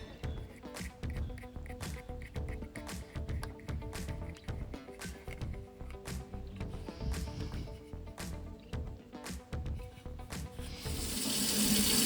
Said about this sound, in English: Your hot tap, if you turn the water back on.